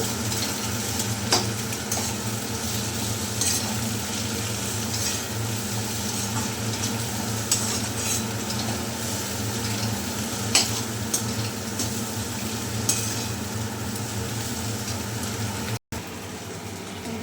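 Egg chowmein tossed with Maggi masala in a pan, a steady close stirring and sizzling that runs unbroken for the whole stretch, with a few sharper scrapes of the utensil against the pan and no voices.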